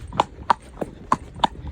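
Hooves of a horse clip-clop at an easy walk during a solo hack, four or five crisp, evenly spaced strikes heard close and alone.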